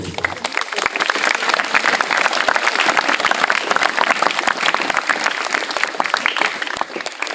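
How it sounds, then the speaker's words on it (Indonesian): Sustained, dense applause from an audience clapping for a teacher at the close of a Ramadan reflection gathering, a steady loud roar of hands filling the whole stretch. "Mari kita beri aplaus kepada Pak Guru."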